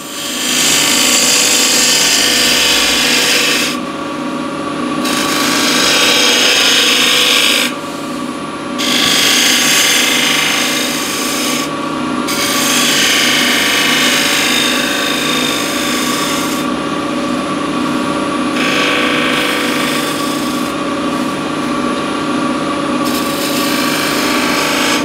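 Spindle gouge cutting a spinning workpiece on a wood lathe, a steady loud rasping scrape with a constant motor hum underneath, the tone dipping briefly several times as the tool lifts off and comes back to the wood.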